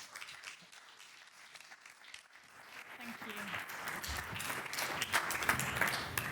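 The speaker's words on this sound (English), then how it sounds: "So can we have a round of applause for Brigid" Applause for speaker Brigid at an in-person event for 250 sales and revenue leaders, starting faint and building into steady clapping from a large audience in a hall, with a voice speaking briefly over it.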